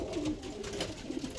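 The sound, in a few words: racing pigeons cooing around nest boxes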